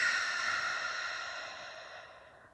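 A single long, soft exhalation through the nose and mouth during a guided breathing exercise at a full moon circle, close and fading gradually.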